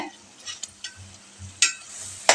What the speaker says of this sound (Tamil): இந்த மசாலா வந்துட்டு பச்சை வாசனை போகிற அளவுக்கு நல்லா கலந்து விடுங்க